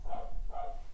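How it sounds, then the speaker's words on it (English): A dog barks twice in the background, two short, distinct barks spaced about half a second apart, moderately loud indoors with no talking. "I'm so sorry about my dog barking in the background."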